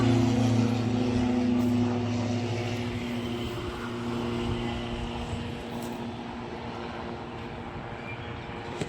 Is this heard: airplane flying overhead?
yes